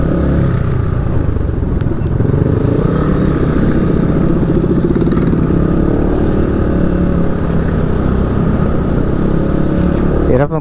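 A motorcycle rides through heavy road traffic, its engine a loud, continuous roar with a dense, steady rumble and clatter throughout, close to the rider with no pause.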